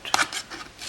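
Scissors snip notches into paper for a lined gift box, a quick pair of crisp cuts close up with no voices.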